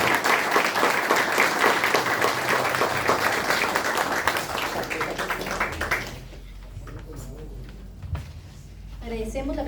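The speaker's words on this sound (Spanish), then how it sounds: "quiero pedir un fuerte aplauso a nuestra escritora" A presentation audience applauds the writer with a strong round of clapping for about six seconds, then it stops abruptly and quieter room sounds and brief speech follow.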